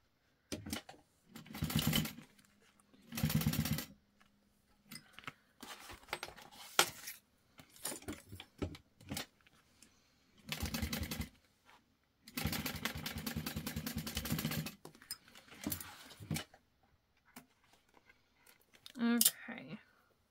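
A sewing machine top-stitches a tote bag in several bursts of steady whirring of a few seconds each, separated by pauses filled with handling clicks and rustles, close to the mic.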